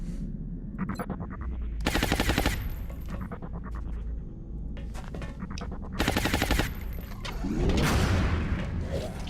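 Gunfire in an XCOM alien base assault: repeated loud bursts of rapid automatic fire in several volleys, with a few single shots and mechanical clanks between them, ending in a rumbling impact.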